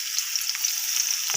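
Oil in a wok sizzling as dry chili, bay leaf and garlic fry, a steady close hiss with faint crackles and no voices.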